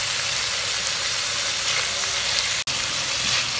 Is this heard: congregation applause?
no